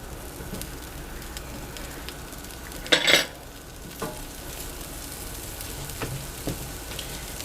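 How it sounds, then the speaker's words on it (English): Bell peppers sizzling on a hot grill, a steady close hiss with a brief louder crackle and a few soft knocks, no talking. "placing my peppers on my grill"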